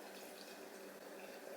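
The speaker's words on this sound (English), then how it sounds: "This is filtered water." Filtered water being poured for sourdough bread dough, a soft, steady trickling splash heard up close and quietly for a brief moment.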